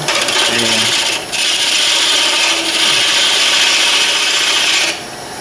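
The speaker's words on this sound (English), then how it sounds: "just to keep it from chattering, I like to use my high-speed steel scraper on this" A high-speed steel scraper shapes a wooden bottle stopper blank spinning on a lathe, giving a loud, steady rasping scrape that dips briefly twice and eases off near the end.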